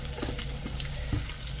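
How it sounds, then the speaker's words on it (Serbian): Bacon or sausage frying until crisp in a pan: a quiet, steady sizzle with scattered small pops and crackles. "Ispržite ovako da bude hrskavo"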